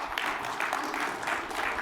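An audience at a tech conference session applauds in a continuous, even patter of many hands clapping, moderately loud and with no talk.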